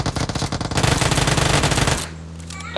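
Gunfire from the video game PUBG comes as a loud, close, rapid automatic burst lasting about two seconds. It then cuts off, leaving quieter game ambience.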